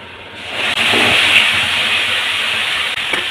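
Spice paste hits hot oil over fried potatoes in a pan for a fish curry, setting off a loud, steady broadband sizzle that swells quickly and holds, heard alone up close.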